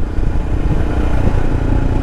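A 2021 Royal Enfield Himalayan being ridden, with its engine thrumming steadily and loud, mixed with road and wind noise.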